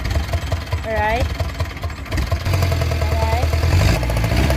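An Isuzu 4BC2 diesel engine runs steadily and loudly nearby, a constant throbbing drone with rising revs toward the end, while people talk over it.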